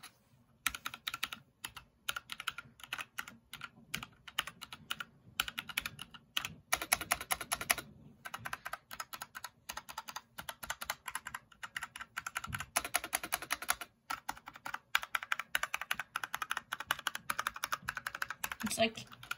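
Rapid typing on a Magegee gaming keyboard with crisp, clacky keystrokes in irregular bursts, close and fairly loud, with brief pauses between runs.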